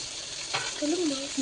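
Fish frying in hot oil gives a soft, continuous sizzle with a brief stir or shift partway through, close and fairly quiet, with no one speaking.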